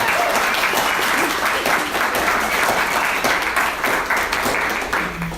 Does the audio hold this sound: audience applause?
yes